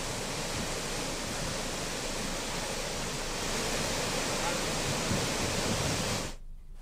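Floodwater rushes loudly after heavy rain in Gir Somnath, Gujarat, a dense continuous roar of overflowing water that holds steady before cutting off abruptly near the end.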